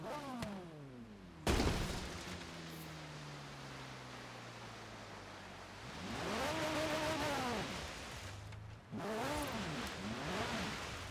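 An all-wheel-drive Lancia Stratos in a driving game revs hard, with a sharp impact, falling engine pitch, then repeated rising and falling revs as it accelerates and shifts.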